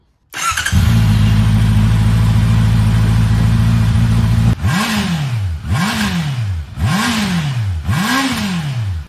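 A Honda CBR650R motorcycle engine with stock exhaust starts and idles loudly, then revs four times in a steady rhythm, each rev rising and falling, close by.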